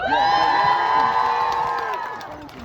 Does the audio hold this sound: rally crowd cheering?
yes